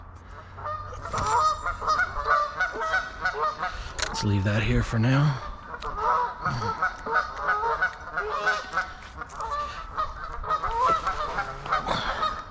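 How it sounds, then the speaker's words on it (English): Loud, chaotic honking from a flock of geese close by, calls overlapping constantly, with someone speaking briefly among them. "these geese are crazy this morning"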